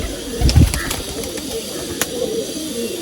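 Pigeons in a loft, a few low coos and soft bird calls close by over a steady hiss, with a brief louder burst early on.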